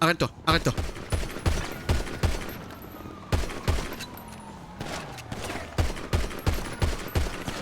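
Video game gunfire: loud, sharp shots in irregular bursts and single cracks, some rapid like a machine gun, with faint voices beneath.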